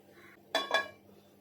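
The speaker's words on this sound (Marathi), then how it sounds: "सर्वात प्रथम इथे ना मी एक कढई ठेवते गरम करायला" A metal kadhai set down on a stove to heat before roasting coconut for methi laddu, two quick close clanks of metal on metal a moment apart, then quiet kitchen background.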